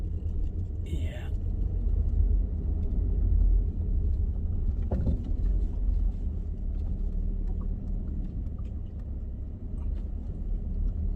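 A Subaru car driving along, with a steady low road rumble and engine drone running throughout and a brief faint voice early on.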